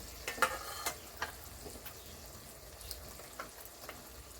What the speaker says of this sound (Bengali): আদা, লঙ্কা আর রসুন বাটার পেস্টটা দিয়ে দিলাম।